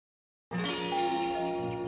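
A doorbell's ding-dong chime in a radio ad starts abruptly and rings out in layered, sustained bell-like tones that fade slowly, with no voices.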